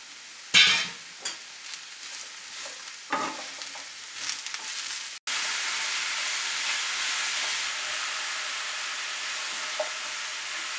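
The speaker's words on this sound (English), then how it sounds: "first fry the sliced mushroom in hot oil" Sliced mushrooms frying in hot oil for methi mushrooms, with several stirring scrapes at first and then a loud, steady, hissing sizzle, close up.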